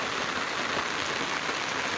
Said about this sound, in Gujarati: હજી વરસાદ ચાલુ જ છે